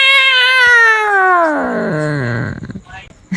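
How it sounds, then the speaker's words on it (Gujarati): Two house cats fighting indoors, one drawn-out, loud caterwauling yowl that slides downward in pitch before breaking into scuffling noises, close by. "ઘરમાં આવ્યો ને તો આ 2 બિલાડી બાથે છે"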